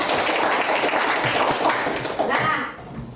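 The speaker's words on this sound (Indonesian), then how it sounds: "Semangat dan tepuk tangan dulu buat kita." Applause from a classroom audience of children and a teacher: dense, steady clapping that fills the clip, with kids' voices mixed in, before it thins out near the end.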